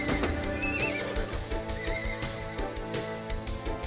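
Several loud horse neighs and whinnies from the video game Age of Empires II HD ring out over steady rhythmic clip-clopping hooves and a dense backdrop of game sound.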